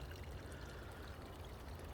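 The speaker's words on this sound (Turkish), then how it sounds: "Sular da akıyor böyle şırıl şırıl." Water from a forest stream flows steadily and continuously, a close, even rushing babble that carries through the whole stretch with no voices.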